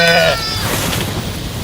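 A striped or speckled sheep lets out one short, loud bleat at the start, followed by a steady rain-like hiss of background noise.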